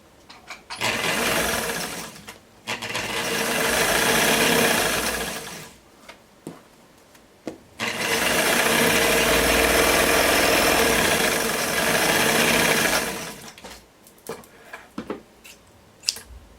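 A sewing machine stitches a jumpsuit with a cutout, made without a pattern, in three steady whirring runs of a few seconds each. Short quiet pauses separate the runs, with no talking.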